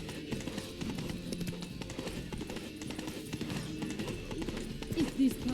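Roach the horse gallops in The Witcher 3's Blood and Wine expansion, hooves clip-clopping in a steady rhythmic patter under ambient game sounds and voices.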